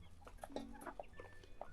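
Very young Bielefelder chicks give soft, faint peeps and chirps in a quick scattered series, heard alone at low volume.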